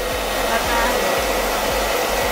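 Hair dryer blower running steadily, a loud close whooshing roar with a constant motor hum and no pauses.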